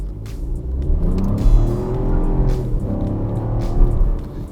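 A Chevrolet Trax with a 1.2 engine accelerates hard from a standstill with slight wheel spin, its engine droning loudly and steadily and rising in pitch under full throttle throughout.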